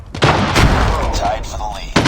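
A sniper rifle shot in a bolt-action-only game mode rings out sharply, followed by a lingering tail and a second loud report near the end, under busy game noise and a player's voice.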